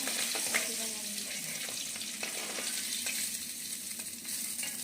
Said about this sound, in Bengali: মাছ বেশি সময় নিয়ে ভাজবো না, তেলে দিয়ে সাথে সাথে উল্টিয়ে তুলে নেব।